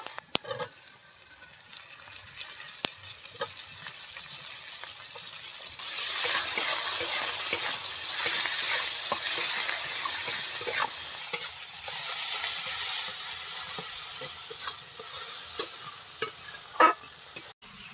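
Tomatoes tipped into a hot pan and stirred with salt-fried aromatics while preparing an Assamese snack, giving a steady close sizzle with scraping stir strokes that grows louder midway and continues without speech.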